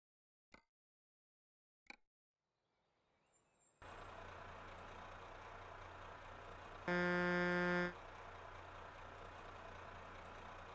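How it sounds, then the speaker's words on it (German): In Euro Truck Simulator 2, after two sharp clicks, a heavy truck engine starts and idles with a steady low rumble, a loud horn-like blast cutting in briefly midway. "Lautstärke weiterer LKW-Effekte."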